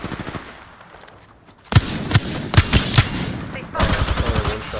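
Rapid gunfire from an Apex Legends match on Storm Point, with Wingman pistol shots among bursts of automatic fire; loud, sharp cracks start after a quieter opening and continue in quick clusters, with a voice talking underneath.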